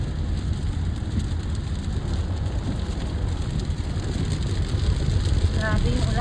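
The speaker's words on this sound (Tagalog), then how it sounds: "Grabe yung ulan. Lakas na ng ulan." Heavy rain drumming on a moving car near the region of Waterloo, a dense steady patter over the low engine and road rumble, growing slightly louder toward the end.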